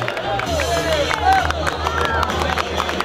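An outdoor crowd at a Nevruz fire-jumping festival in Kayseri Develi claps and cheers in a loose, scattered patter while someone speaks over a loudspeaker and voices murmur around.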